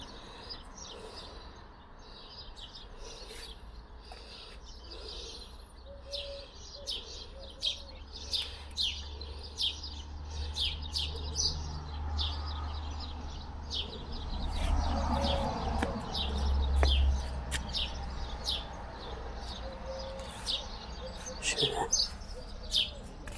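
Many small birds chirp and tweet steadily throughout, with overlapping calls over a low, constant background rumble.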